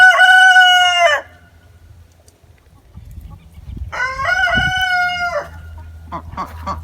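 An Americana rooster crows twice, loud and close, each crow about a second long with a pause between, then faint clucks and rustling follow.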